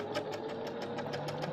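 A sewing machine runs steadily, stitching backwards and forwards over a tear in fabric to mend it, with a constant mechanical whir and quick repeated needle ticks close by.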